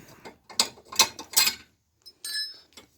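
Wrench work undoing a bracket bolt and bobbin on a Classic Mini subframe: several sharp metallic clicks and ratcheting bursts in quick succession, close and distinct, with short pauses between them.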